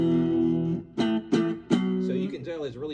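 Electric guitar through a completely clean amp with no pedal, a held chord followed by several sharply picked notes and chords that ring and decay, played alone at moderate loudness.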